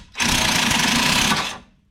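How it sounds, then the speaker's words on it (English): Impact wrench with an impact socket spinning off a tie rod nut on a Saab 900 Classic: a single loud, harsh buzzing burst of about a second and a half, heard up close with no talk. "I'll just do it with the impact socket because I have it right here."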